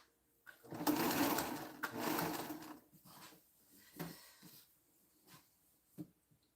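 Sewing machine stitching through a thick quilt joint: a loud burst of rapid whirring stitches for about two seconds, then a few shorter, fainter runs and isolated thumps as the fabric is worked.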